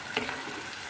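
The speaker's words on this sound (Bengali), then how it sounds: "মিক্স করব, নাড়াবো পুরো ডালটার সাথে এই মশলাটা যেন মিশে যায়" Dal being stirred with turmeric and ground spices in a hot pan for Andhra-style tomato pappu, a soft scraping stir over a steady low sizzle, close and brief.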